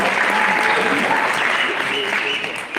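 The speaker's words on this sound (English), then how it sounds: "A big round of applause" An audience breaks into a big round of applause, loud and dense clapping with a murmur of voices underneath, tapering off slightly at the end.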